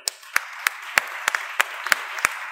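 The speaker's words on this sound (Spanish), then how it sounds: "Te vamos a despedir con este fuerte aplauso" Rhythmic, evenly spaced clapping in unison at a workshop gathering, a steady beat of sharp claps about three per second over a faint background hum.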